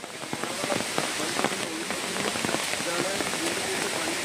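Heavy rain pours down steadily on a mountain pass road as mud and stones slide down, scattered drops pattering on surfaces, a dense continuous hiss with faint voices somewhere in the background.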